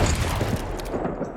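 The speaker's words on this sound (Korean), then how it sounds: "총소리가 났습니다." Gunshots in the Korean crime film Believer: a brief, muffled burst of booming shots close together, with no speech over them.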